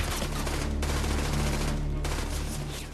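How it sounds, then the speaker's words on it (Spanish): Heavy gunfire in a Second World War battle near Falaise, with troops firing on Canadian defenders: a dense, continuous roar of rapid shots and machine-gun bursts that fills the whole stretch with little pause. "Abren fuego contra los defensores canadienses."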